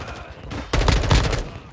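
Gunfire in Call of Duty during a Hardpoint match on the Fortress map, with a quieter stretch followed by a loud, dense burst of rapid shots in the second half.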